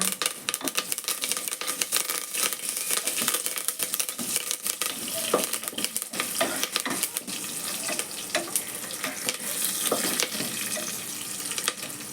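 Seasonings frying in hot oil in a pan for moong dal khichdi, a dense steady sizzle with frequent crackles and sharp pops, close and fairly loud, with stirring scrapes and no voices.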